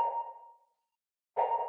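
Synth sent through Valhalla Room reverb at a fully wet mix makes soft, washy sustained tones that swell and fade, with a silent gap between two reverberant blooms and no talking.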